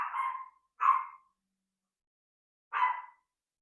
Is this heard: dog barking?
yes